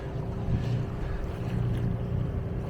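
Wind buffets a microphone aboard a sailboat in steady gusty rushes, gusting to about 14 knots, with a low continuous rumble underneath.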